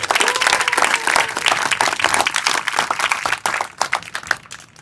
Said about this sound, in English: Let's give another round of applause to you.